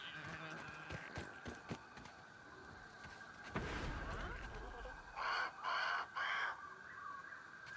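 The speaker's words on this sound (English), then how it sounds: "Yeah, I think there's the crow." A crow in the Grounded survival video game gives several quick caws in a burst near the end, after scattered clicks and mechanical game sounds, with faint talk in the background.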